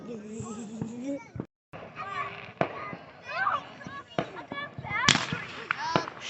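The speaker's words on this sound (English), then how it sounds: "It was a UFO firework." Fireworks go off at a family Fourth of July get-together with sharp cracks and bangs, whistling and whining rockets, and a loud close burst near the end. People talk and shout throughout.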